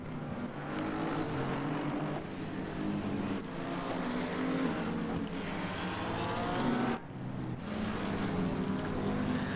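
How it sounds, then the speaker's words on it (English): Race cars roar past on the Mount Panorama circuit in a racing game, a dense continuous engine drone with overlapping pass-bys that swell and fade, loud and steady throughout. "Look at all the cars going by."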